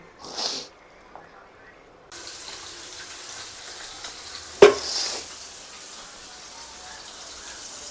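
Paneer cubes fry in oil in a home kitchen pan, a steady, soft hiss and sizzle that starts abruptly and continues, broken once by a sharp clatter, with a short burst of noise before the frying begins.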